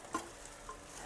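Spiced tempered rice being stirred in a pan, with a soft scrape of the spoon and light sizzling, quiet and close, with no talking.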